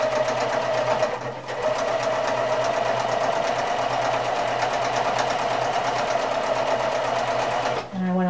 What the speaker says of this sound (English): And I went a little bit beyond the end there, so, and not back stitching.